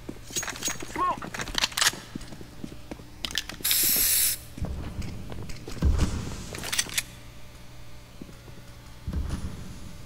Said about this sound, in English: I'm throwing smoke